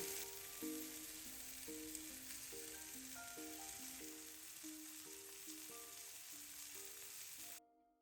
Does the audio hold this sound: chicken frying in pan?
yes